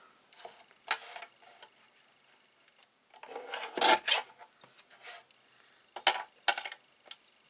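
Several short rasping slides of a paper trimmer blade cutting cardstock, separated by quiet pauses, close by and fairly soft.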